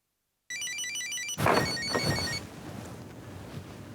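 A telephone rings close by with a repeated electronic warble, then a louder clatter or handling noise cuts in as the ringing fades and stops, leaving a quiet room hum.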